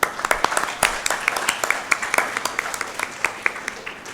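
Audience claps to welcome the dean at a Prerna Diwas birthday celebration event; sharp, dense handclaps keep up steadily for several seconds with a roomy hall feel.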